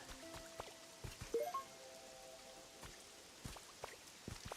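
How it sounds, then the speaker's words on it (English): Rain falling in an area of a fitness boxing video game, a faint patter of scattered drops with a few brief tonal game chimes and blips mixed in, no talk. "because it now rains in this area"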